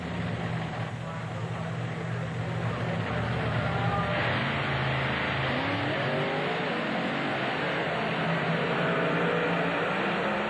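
Two monster trucks, a Ford and a Chevrolet, racing at an arena event, engines roaring loud and continuous with rising and falling revs under a commentator talking throughout.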